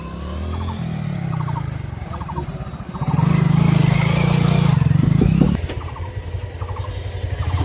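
Motorbike engines idle and rev nearby on a river bank, one growling louder in the middle before dropping back to a rattling putter.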